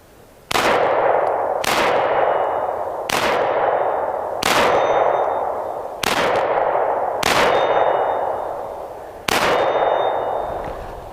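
Seven sharp Ruger P95 9mm pistol shots ring off a steel target at 50 feet, each a loud crack followed by a ringing metallic clang, evenly spaced about every 1.3 seconds with no talking.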